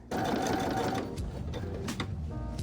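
A sewing machine stitches a seam through denim fabric for a patchwork blazer, its needle running in a steady, continuous whirring patter that holds close and loud without pause.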